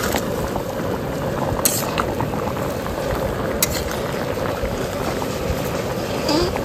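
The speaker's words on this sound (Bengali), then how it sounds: "এবার এই যে ভেজে রাখা চিংড়ি মাছগুলো দিয়ে দেবো।" Fried prawns go into a cooking pot with potatoes, and a dense bubbling, boiling simmer runs steadily throughout with a few faint clinks of a utensil.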